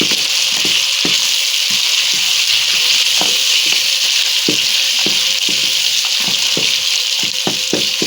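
Chopped tomatoes fry with mutton in a pan, a loud constant sizzle cut by repeated sharp scrapes and taps of a spoon as it is stirred, with no talking.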